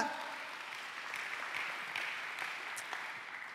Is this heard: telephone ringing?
no